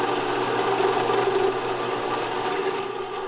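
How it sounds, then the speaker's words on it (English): A drill bores pop pin holes through a part clamped in a self-centering vise in a manufacturing workshop, a steady, continuous grinding whir with a faint tonal hum, loud and unbroken throughout. "Drilling the pop pins hole through the two"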